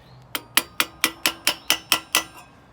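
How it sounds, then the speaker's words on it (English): A hammer strikes a rivet header on steel rose petals, nine sharp metallic blows in a steady rhythm, close and loud, with no speech. "what I'm using is a tool called a rivet header"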